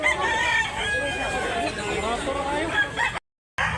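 Roosters and hens at a busy market in Tabunok, Talisay, Cebu, with crowing and clucking mixed among nearby voices and crowd noise, then a brief cut to silence.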